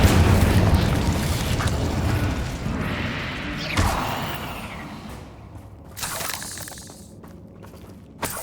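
The Incendio fire spell in the Hogwarts Legacy video game erupts as a loud roaring blast that slowly dies away, followed by a couple of smaller thuds and bursts later on.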